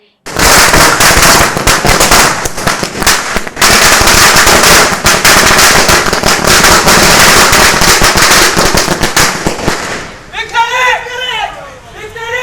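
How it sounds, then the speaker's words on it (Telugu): A long, loud string of firecrackers bursts in rapid, crackling volleys outside a cinema at a fan celebration, then stops, leaving a crowd's chatter and shouts near the end. "కేక్ కట్ చేసి టపాసులు కాల్చి సంబరాలను చేసుకున్నారు"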